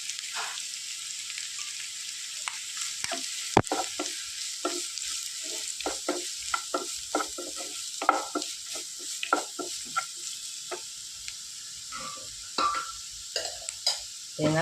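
Sliced onions with ground coconut paste sautéing in a pan for green gram thoran, a bright steady sizzle with frequent crackles and spatters popping throughout.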